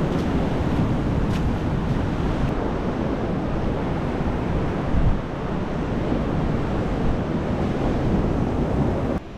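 Ocean waves crash and wash onto the shore in a steady, loud roar, with heavy wind buffeting the microphone throughout and no voices.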